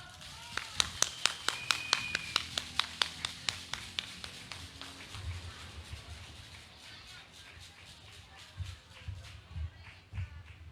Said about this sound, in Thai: ขอเสียงปรบมือต้อนรับ ปาลบชนบุรีครับ